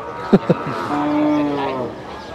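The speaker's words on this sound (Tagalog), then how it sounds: "Grabe yung kalabaw na to, no?" A carabao, a water buffalo believed to be a cross between a white and a normal carabao, gives a long, close moo after a couple of short thumps, with people talking nearby.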